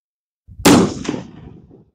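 One loud gunshot cracks out at sea cadets' shooting training at Treibs Ranch, a sharp blast close by with a short echoing tail after a faint rustle, with no voices.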